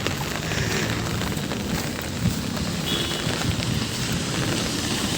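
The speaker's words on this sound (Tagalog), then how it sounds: "sumalakas pa rin ang ulan dito sa labas" Steady, dense hiss of heavy rain falling outside, a constant wash of noise with a single brief thump partway through.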